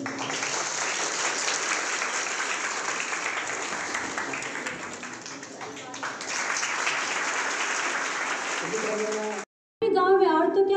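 A crowd of children claps loudly and steadily to welcome the chief guest at a Mission Shakti event in India, with dense sustained applause that briefly cuts out near the end before a voice resumes.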